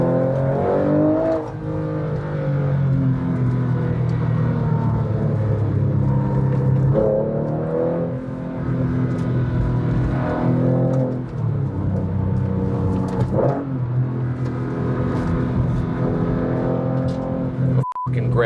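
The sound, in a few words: 2004 Porsche GT3 engine while driving on twisty road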